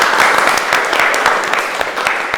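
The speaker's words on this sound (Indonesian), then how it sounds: "tepuk tangan yang meriah untuk kelompok 1" Loud, lively applause for group 1 from a seated group of listeners during a class discussion session, with dense, continuous clapping and some sharper nearby claps.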